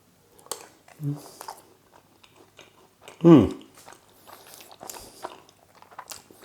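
Someone biting and chewing panettone pudding with a crunchy outer crust and soft middle, with close, sparse crunching and mouth sounds and one sharper bite in the middle.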